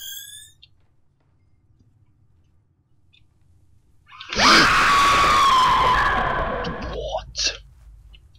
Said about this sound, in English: Why would you just put a loud scream in there for no reason